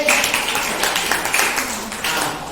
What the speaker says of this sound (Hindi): तालियां हो जाए उसके लिए।